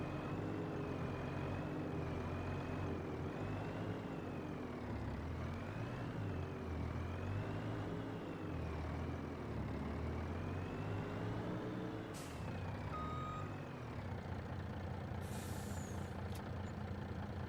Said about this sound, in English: the sound on this engine and the brakes is actually pretty nice compared to a lot of them